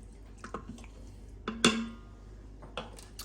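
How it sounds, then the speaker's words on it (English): Wooden spoon scraping the bottom of an Instant Pot, a few brief clattering scrapes and knocks, one sharper clunk in the middle, close and fairly quiet. "using a wooden spoon or whatever you've got, just give it a good scrape to make sure there's nothing stuck on the bottom"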